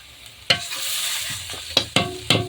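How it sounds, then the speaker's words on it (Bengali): Onions frying in a pan for a chicken and poppy-seed dish: a steady sizzle runs throughout, broken by four or five sharp, close scraping stirs, one near the start and a quick cluster toward the end. "দেখুন আমার পেঁয়াজটা কিন্তু লাল লাল হয়ে আসছে"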